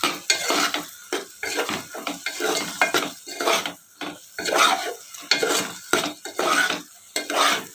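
A spoon stirs turmeric and chili powder into a drumstick curry in a pan, with close, rhythmic scraping and clinking against the metal and a faint sizzle underneath.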